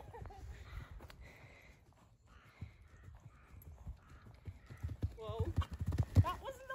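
A horse cantering toward and over a jump, its hoofbeats thudding in a quickening rhythm with a heavier landing near the end, while people talk throughout.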